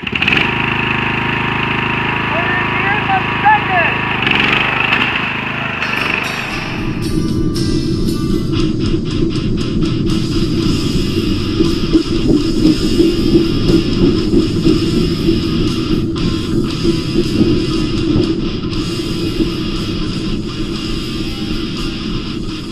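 A modified lawn mower engine, close and loud, sputters at first and then settles into a rough, steady chugging roar that runs on with no talk.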